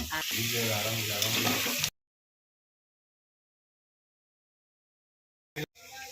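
Jackfruit and prawn curry with potatoes and cumin-coriander paste fries in a pan with a loud, close sizzle for about two seconds. Silence follows, then a short burst of sizzling returns at the end.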